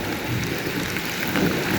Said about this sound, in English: We get these big storms